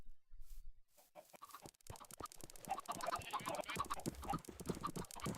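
Chickens cluck repeatedly on a Minecraft modpack farm, a run of short, close, fairly quiet clucks following a brief quiet opening.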